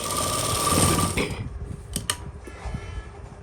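A sewing machine stitches a Burberry-fabric lining suit with long, loose stitches, a rapid mechanical chatter that starts loud and busy, then thins to scattered ticks and clicks close by with no talking.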